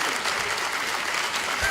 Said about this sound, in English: A bit of a clap.